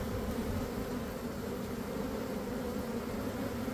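A honeybee swarm buzzing continuously and densely up close, a steady unbroken drone with no pauses or voices.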